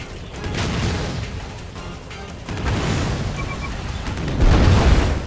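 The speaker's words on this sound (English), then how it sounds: "that's one hell of an explosion" A large explosion during a turret section in the video game Stranglehold, heavy low rumbling booms swelling in waves and growing loudest near the end, with no talk over it.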